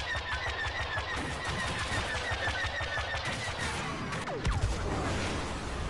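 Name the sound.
gunfire in the video game Star Wars Battlefront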